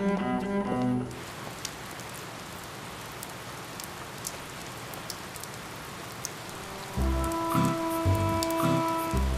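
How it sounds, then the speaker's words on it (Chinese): Heavy rain pours down in a steady, loud hiss that carries through the whole stretch, with music briefly present at the start and again near the end. "下这么大雨啊！"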